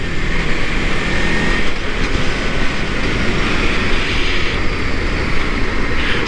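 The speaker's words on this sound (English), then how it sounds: "this motor has a nice grunt to it. It's got that V4 in it." A 2018 Aprilia RSV4 RR sport bike's V4 engine roars continuously under riding, a dense, loud rush blended with wind noise, with no speech.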